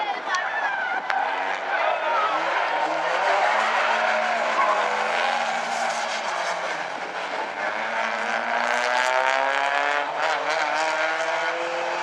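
Race cars in a Bumblebee-class heat race at South Sound Speedway scream past with rising and falling engine notes and squealing, skidding tires. The roar stays loud and continuous, and some talk may sit underneath it.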